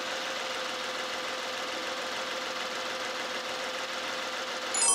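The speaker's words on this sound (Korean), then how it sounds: "엔진 소리 들어보도록 하겠습니다." A Hyundai Genesis DH with a 3800cc engine idles with the engine bay open, a smooth, quiet, even hum close by that runs steadily and alone, with a small bump at the very end.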